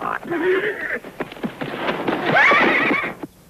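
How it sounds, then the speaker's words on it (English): A horse being broken whinnies loudly and shrilly, with hooves clopping and scuffling beneath, a second rising neigh following after about two seconds, close and energetic. "All right, Dusty, I'm going to show you something about breaking a horse."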